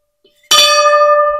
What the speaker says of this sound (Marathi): तर मग आता घंटी वाजवत